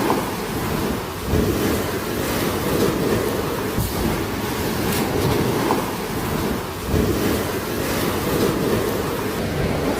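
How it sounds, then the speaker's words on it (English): Water pours down from a high-rise rooftop swimming pool during an earthquake in South-East Asia, a heavy, continuous rushing roar that swells and dips throughout. "Here you can see water falling down from the rooftop of some high-rise building."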